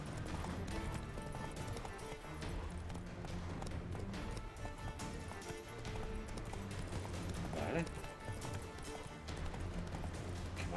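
Galloping horse hooves from The Witcher 3, a steady clip-clop rhythm running throughout over a busy game soundscape with music, while someone talks over it.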